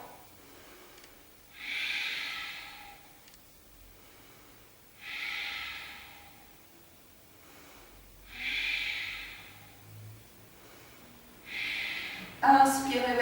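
Four slow, deep breaths taken during seated yoga postures, each a close, audible rush of air spaced a few seconds apart in a quiet room.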